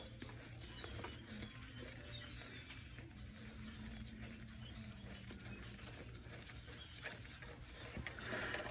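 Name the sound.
ratchet unscrewing a brake hose bracket bolt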